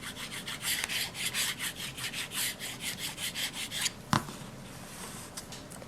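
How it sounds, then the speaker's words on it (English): A screwdriver shaft rubbed back and forth through a magnetizer-demagnetizer block, giving a steady series of close, rhythmic scraping strokes followed by a sharp click and a brief quieter rasp. "We're just going to insert the screwdriver in here."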